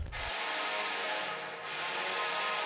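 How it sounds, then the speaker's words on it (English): A chamber-style reverb on a raw, undoubled rock guitar from a mix, a brief chord stab blooming into a loud sustained wash that lingers evenly before cutting off. "there's a guitar tone and then there's a reverb, and it's panned all the way to the right"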